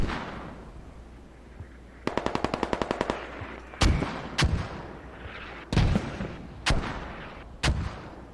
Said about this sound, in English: These mortars now dialing back in where EWA was in this eastern wall.